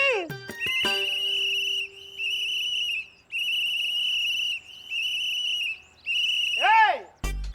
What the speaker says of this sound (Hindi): काहे यहाँ कान में आके जोर जोर से सीटी मार रहे हो